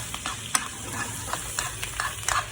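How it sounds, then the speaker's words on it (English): Steak sizzling in a pan while being basted with butter, a steady hot crackle with bursts of spattering and scraping as the butter is spooned over the meat, close and continuous. "I'm gonna go ahead and start basting it with butter."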